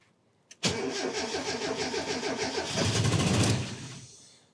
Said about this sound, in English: Should we give her a crank?